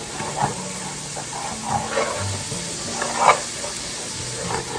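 Mushroom sauce with pork simmering and reducing in a pan, giving a steady close sizzle and bubbling hiss with small pops throughout, with no talking.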